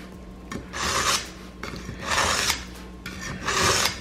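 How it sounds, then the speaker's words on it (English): A knife blade is sharpened in slow, steady rasping strokes, three long scrapes with pauses between them, heard close and alone before a fish is cleaned at a jetty. "sharpen our blade a little bit"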